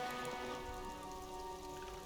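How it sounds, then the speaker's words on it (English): Rain falls steadily on the city of Revachol in the video game Disco Elysium, a faint even patter on surfaces that continues without pause and with no voices. "All around you, rain falls on the great city of Revachol."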